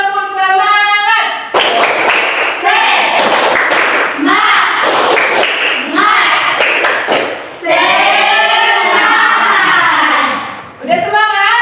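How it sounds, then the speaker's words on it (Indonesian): Students in a classroom repeat a patterned spirit clap, crisp clusters of hand claps and thuds punctuating loud chanting voices, near and lively with brief pauses between phrases. "Sekali lagi tepuk semangat."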